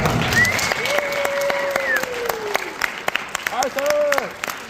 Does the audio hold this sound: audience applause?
yes